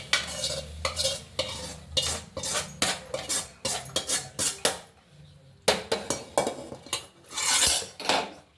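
Fried ingredients for an oily brinjal curry are scooped and tipped into a mixer jar, with repeated spoon scrapes and clinks of metal on steel coming in close, busy bursts and a short pause midway.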